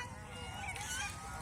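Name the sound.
geese honking on a goose farm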